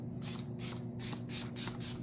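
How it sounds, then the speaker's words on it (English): Hydrating face mist sprayed from a pump bottle during a makeup routine, five quick bursts in steady rhythm, close and clear with no talk. "I take my hydrating spray, not a setting, not a sealant, okay?"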